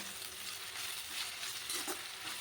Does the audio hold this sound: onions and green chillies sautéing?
yes